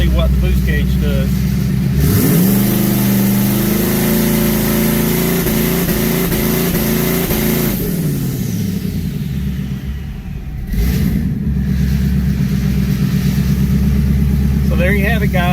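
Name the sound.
2019 twin turbo Mustang engine revving on launch control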